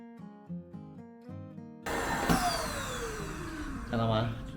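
Air rushes steadily out through the open pump valve of a Naturehike 12 cm self-inflating single sponge bed, a broad continuous hiss lasting several seconds with a slight swell near the end, following a quieter tonal passage.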